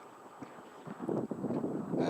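Gusty wind buffets the microphone in rising, rumbling bursts, with faint thuds like hooves on soft ground underneath from a horse being free lunged in a round pen.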